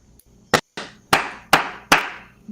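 A few sharp, separate hand claps, loud and close, in an irregular rhythm with short ringing decays, standing in for a standing ovation; no talking.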